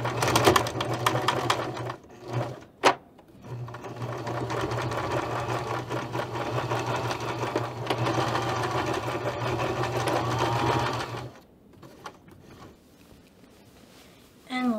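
A sewing machine runs loud and close, steadily stitching down the overlapped waistband ends of a ribbon skirt, pausing briefly twice before stopping near the end.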